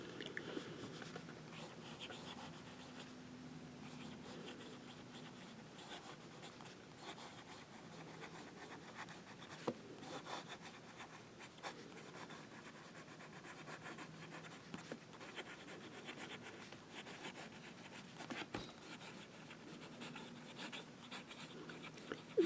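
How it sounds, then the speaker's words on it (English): A Kaweco Mini fountain pen scratches and glides faintly across paper in short intermittent strokes, quiet and close, with soft rustles and pauses between lines. "And do a little wet test"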